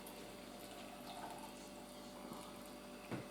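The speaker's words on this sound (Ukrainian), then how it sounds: "баночки я тоже наливаю под самый верх" Hot, boiling tomato marinade pours steadily into glass jars in a quiet room, a soft continuous splashing with a brief clink near the end.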